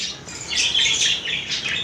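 Large Australian parrots give a burst of shrill, harsh squawks, loud and close, calling repeatedly over about two seconds with no talking.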